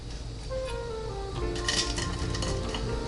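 A utensil cuts through crispy air-fried Eggo waffles on a plate, giving soft scraping and light clinks of metal on the dish, steady and close, with a faint voice in the background.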